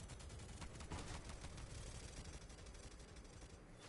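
Rapid, sustained gunfire from a mech's gunner seat in the video game Borderlands 3 rattles continuously as a dense, even barrage over a busy combat background.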